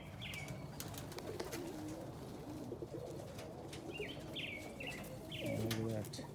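Pigeons paired up for mating in a loft coo softly and chirp close by, with several short calls over a steady background hum and a louder burst of cooing near the end.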